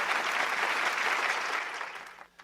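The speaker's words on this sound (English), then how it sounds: "I think that deserves another round of applause." Applause fills the room at a South African Mathematics Foundation 2021 awards function, a steady, dense clapping that holds evenly before tapering off and fading near the end.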